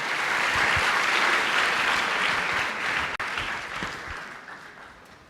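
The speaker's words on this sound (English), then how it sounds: "please join me in a round of applause for them" Steady applause from a sizable crowd at a UNESCO education summit, dense and even, gradually thinning and fading toward the end.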